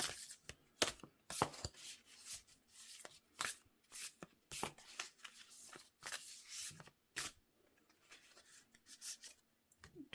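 Tarot cards shuffled by hand, a close, quiet run of crisp riffling slaps and flicks in irregular bursts.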